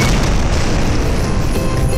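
Cartoon grenade blast under a Christmas tree, a dense, loud, sustained boom that fills the whole two seconds with rumbling roar and no pause.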